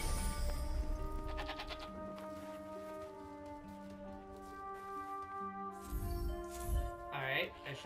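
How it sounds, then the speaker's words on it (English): Sheep bleat repeatedly while being fed in the video game Forspoken, their calls clear and drawn out over soft game music with quiet ambient sound. "Try feeding hungry sheep and feeding them."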